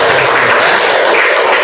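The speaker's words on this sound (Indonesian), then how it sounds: "Tepuk tangan dulu untuk temannya." Children applauding in a classroom, a loud dense burst of clapping from many hands, continuous and close throughout the short moment.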